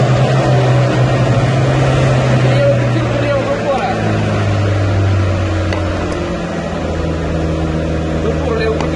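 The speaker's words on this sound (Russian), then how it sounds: "Обороты до 3000." The engine of a GAZelle Next van revs up to around 3000 rpm, a loud droning hum that rises in pitch and then holds, heard from inside the vehicle.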